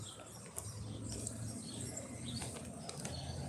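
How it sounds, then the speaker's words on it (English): Birds calling in the background, pigeon-like coos and faint chirps with a possible flutter of wings, distant and soft within a steady outdoor hum, with no talk over them. "as you hear the birds in the background"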